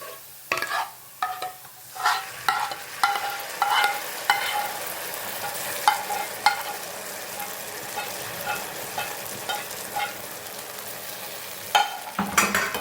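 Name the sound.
gravy added to pan and stirred for white sauce pasta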